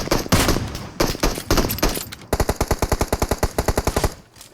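Bursts of automatic gunfire crackle in PUBG Mobile on the Erangel map, a few scattered shots followed by a long rapid volley of evenly spaced reports, loud and close, with no talk over it.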